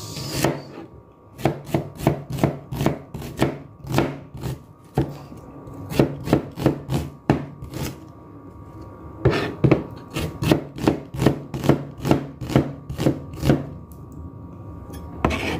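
Rhythmic knife strokes chop an onion on a cutting board, with quick runs of sharp, evenly spaced cuts broken by short pauses. Close and clear, with no talking.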